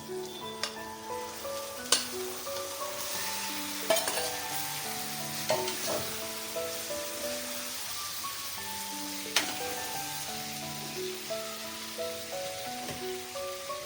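Prawns sautéing with onion and tomato in a pan on medium heat, a steady close sizzle with soft crackles and occasional louder stir clatters from a utensil, continuous throughout with no talking.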